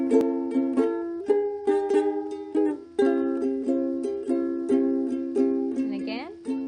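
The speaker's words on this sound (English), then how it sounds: "So if we play these chords in this pattern" A ukulele strums a repeating chord pattern in an even, steady rhythm, each bright chord struck close up and ringing briefly before the next.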